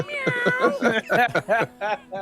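Several voices meow in a string of wavering, cat-like cries in a playful imitation of cats, close and loud with short gaps between calls.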